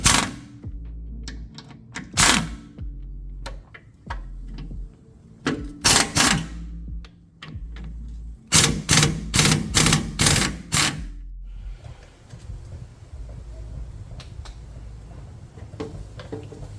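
A ratcheting socket loosens tight bolts on a car during a K24 turbo MR2 Spyder build. Bursts of rapid clicking and clacking sound close up and loud, the longest run coming near the middle, followed by a quieter rustling tail.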